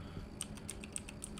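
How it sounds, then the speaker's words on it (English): Keys on a computer keyboard are tapped during BioShock, several sharp, close clicks spaced unevenly over a steady low game hum. "Just press every button on the keyboard."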